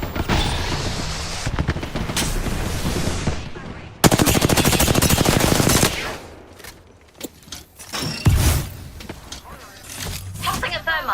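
Rapid automatic gunfire bursts in an Apex Legends match, loud and close with sharp repeated cracks, stopping and restarting in several volleys, mixed with game sound effects and character voice lines.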